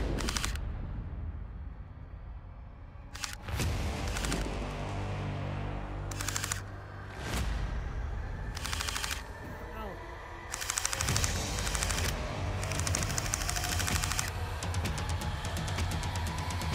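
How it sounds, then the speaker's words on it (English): Gel blaster guns firing outside a tent during a battle game in Big Bear, California: irregular bursts of rapid snapping shots heard from inside, mixed with background noise and some voices. "I'm taking fire. You can hear it outside."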